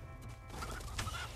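A rocket rooster in the video game My Time at Sandrock gives a short burst of gobbling, clucking fowl calls, close and fairly quiet over faint game ambience.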